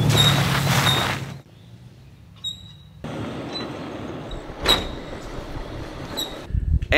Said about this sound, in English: I'm hunting down a suspension squeak as well